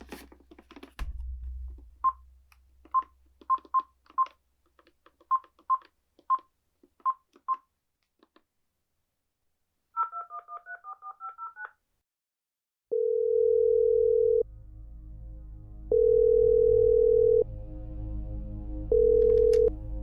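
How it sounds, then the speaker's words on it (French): A telephone is dialed for a secure call: a quick series of touch-tone beeps, a short warbling burst, then a pause before long, steady ringback or line tones repeat loudly and alone. "J'ai un coup de téléphone à donner d'abord."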